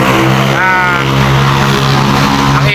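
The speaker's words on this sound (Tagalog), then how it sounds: "ang ingay ng motor" Motorcycle engine running steadily nearby, a continuous loud drone with a brief rising rev partway through, heard outdoors in a rural setting with no talk over it.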